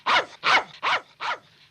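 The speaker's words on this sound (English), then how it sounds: "What's that dog barking at?" A dog barks four times in an even rhythm, each sharp bark close and clear with short silent gaps between.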